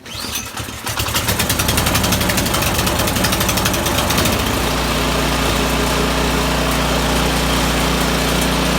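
A Poulan Pro 27-inch snow blower with suspected bad gas is pull-started; after a brief scrape of the cord, the small engine catches and runs loud and close with a steady rapid putter, roaring continuously with no talk.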